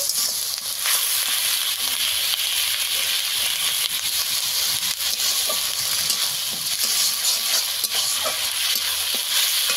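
Tomato paste and onions sizzle in a pan for an egg curry, with continuous scraping and stirring and soft crackles throughout. The sound is close and steady, with no voices.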